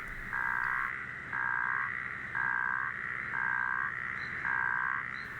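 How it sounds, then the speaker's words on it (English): Frogs croak in a loud chorus of five long, evenly spaced bursts after fresh rain in Kruger Park, each pulsing call lasting about a second with short pauses between. "The frogs were very glad because of fresh water, and we heard a loud concert."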